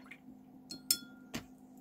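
A paintbrush swishes and clinks in a water jar while watercolor paint is diluted; a few faint taps and splashes sit over a quiet, low hum.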